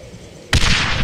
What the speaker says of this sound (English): These are standard issue stick grenades. Just aim and let them fly.